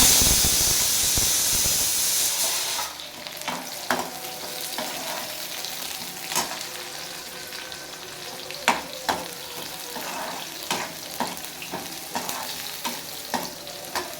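Dried red chillies hit hot tempering oil for a goat intestine curry with a loud burst of sizzling that settles into a quieter crackle. Intermittent stirring clinks and scrapes follow, and no one speaks.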